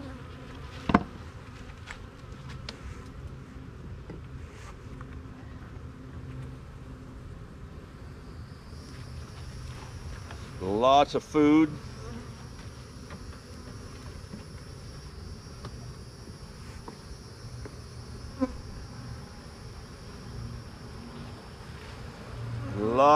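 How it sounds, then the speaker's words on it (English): Honey bees buzz steadily at an opened nuc hive, a dense close swarm drone with brief louder passes near the microphone and a few short spoken words. "Oh, yeah, we got lots of bees up here."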